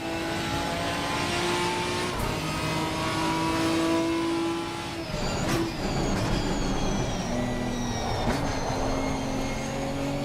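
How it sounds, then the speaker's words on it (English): A race car engine in the Assetto Corsa driving simulator drones loudly and steadily, its pitch climbing and shifting as it revs through the gears, with a brief break midway before the revving resumes. "the engine sounds are a little weird because it's like it's asking you to change gear"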